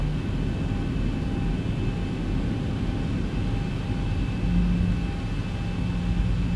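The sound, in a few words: Boeing 737-700 engines taxiing, X-Plane 11 video game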